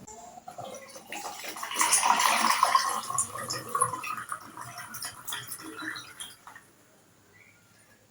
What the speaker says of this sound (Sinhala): අපි වතුර දාගමු දැන්.